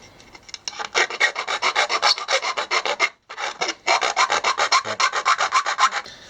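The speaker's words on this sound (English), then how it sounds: "I'm going to just take a file and file my hole to the size where my switch will fit" Steady rhythmic rasping of a metal file enlarging a hole for a light switch, quick back-and-forth strokes close up, with a brief pause midway before the filing resumes.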